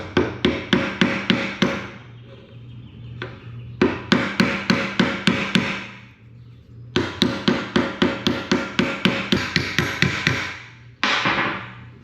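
Hammer peening over a pin on a 1972 Allis Chalmers M65 road grader: bursts of sharp, rapid metallic blows in fast even runs, separated by short pauses, loud and close with no talk.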